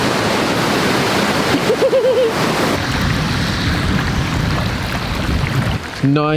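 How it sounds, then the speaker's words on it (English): Steady, dense roar of heavy falling water from a large waterfall in Iceland fills the clip, loud and constant, with a brief voice breaking through near the middle and at the end. "I've never seen a waterfall before, not this big."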